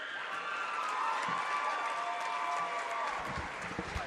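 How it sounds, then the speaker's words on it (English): A gym crowd at a high school volleyball game gives steady, even applause for the seniors and their parents. The clapping sounds fairly distant and lasts throughout. "Please give these seniors and their parents a big round of applause"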